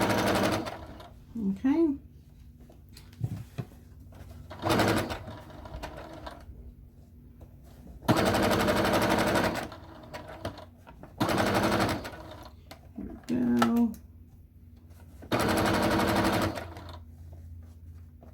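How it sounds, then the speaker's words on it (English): A sewing machine back stitches on an envelope-style pillow cover in several short, loud bursts of rapid stitching separated by pauses, with someone speaking between some of the runs. "So I'm back stitching just to give it a few extra stitches"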